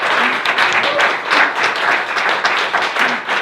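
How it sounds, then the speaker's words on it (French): Audience at a literary festival evening applauding, a dense, sustained burst of many hands clapping at close range with no speech over it. "mais vous pouvez applaudir une nouvelle fois Cause"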